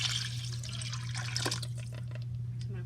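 Homemade vegetable broth pours into a soup pot for black bean soup, a close liquid splash and trickle that thins out toward the end, with faint kitchen clatter.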